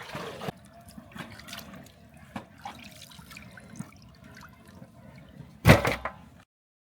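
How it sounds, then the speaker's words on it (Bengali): Fish are rinsed in a pot of water, with soft splashing and scattered clinks and knocks, then one loud, sharp splash near the end. "এখন আমি মাছগুলো ধুয়ে নিব।"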